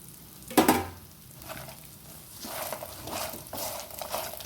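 A spoon stirs cooked pieces into sizzling masala in a frying pan, starting with a sharp clatter and scrape, then a steady hiss of frying broken by repeated stirring passes, close and fairly loud.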